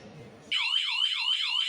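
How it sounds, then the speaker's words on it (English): An intrusion alarm panel sounds the instant the system is armed with zero delay, a loud warbling electronic siren rising and falling in rapid repeated sweeps after a moment of quiet room noise. "Immediately it starts making the alarm."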